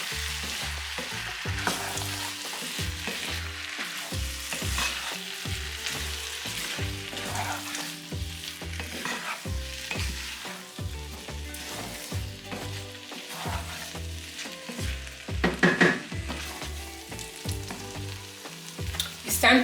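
Eggs frying in a pan for pineapple shrimp fried rice, with a continuous close sizzle and repeated rhythmic scraping of a utensil as they are stirred.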